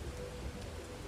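Steady video game rain in Bugsnax hisses evenly with a soft low rumble underneath, quiet and continuous, no voices.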